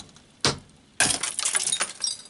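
Glass is knocked out of the bottom of a bottle in a mechanical room: a sharp single crack, then a second strike followed by a clattering, tinkling spill of glass pieces, close and with no talking.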